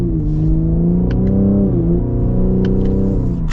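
A 2024 Cadillac CT5-V's engine pulls loud and close under acceleration, its deep, steady drone rising in pitch and briefly dipping as the driver short shifts, with no talk.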